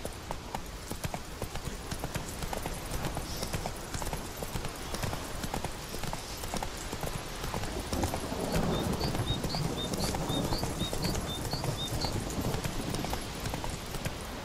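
Horse hooves clip-clop in a steady rhythmic gait in The Witcher 3: Wild Hunt, a fantasy video game, played on Xbox One, close and continuous over ambient game background sound.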